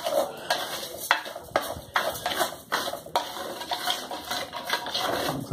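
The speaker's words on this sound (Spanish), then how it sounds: "Entonces vamos a sofreír nuestro arroz." Rice is sautéed in a pot for a ground-meat dish, with a close, rhythmic series of scraping spoon strokes and clatters over a soft continuous sizzle.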